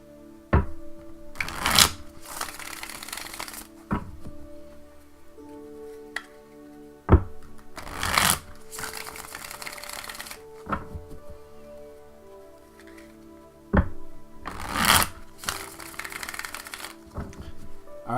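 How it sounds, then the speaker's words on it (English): A deck of tarot cards is shuffled by hand in repeated bursts, each a fast riffling flutter with sharp taps as the deck is squared, separated by quiet pauses over a faint steady background. "it's just a few more shuffles and we'll be there"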